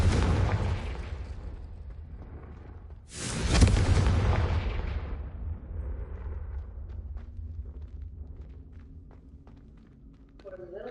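Explosive Confringo and Incendio spells in a Harry Potter video game, a loud burst blasting out around the three-second mark and fading into rumble, with game ambience and voices around it.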